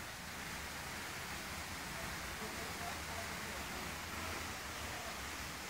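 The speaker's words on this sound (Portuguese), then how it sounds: "Inclusive eu estou ouvindo barulho de cachoeira aqui." Steady broadband rushing of a distant waterfall along a mountain road descending the Serra between São Paulo and Guarujá, a constant wash of noise with no clear breaks throughout.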